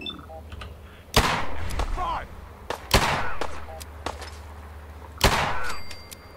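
A modified shotgun in the video game Fallout 4 fires three loud, booming blasts spaced a couple of seconds apart, each with a short echoing tail over a low in-game background hum.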